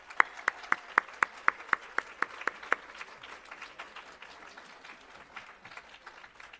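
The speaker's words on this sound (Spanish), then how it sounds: "les pido un fuerte aplauso" Applause from an audience at an academic lecture, opening with about a dozen distinct, evenly spaced claps standing out from a softer, scattered clatter of hands that thins out toward the end.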